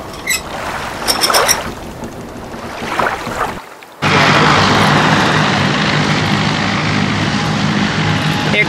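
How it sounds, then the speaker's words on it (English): A propeller airplane on a runway in Zanzibar roars up to a loud, steady engine drone after a brief gap, preceded by softer rumbling and scattered clatter, heard from close by without talk. "They're clearing the runway so that this plane can take off."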